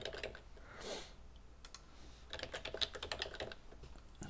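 A password is typed on a computer keyboard in quick, uneven bursts of soft key clicks, faint and close, with short pauses between runs of keystrokes.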